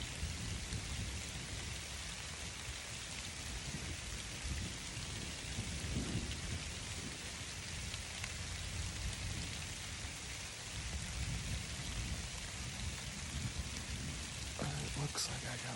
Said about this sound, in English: I don't like being in a tree when the thunder's going on.